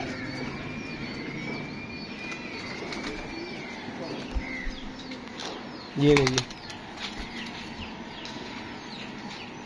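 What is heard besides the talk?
pigeons cooing and flapping wings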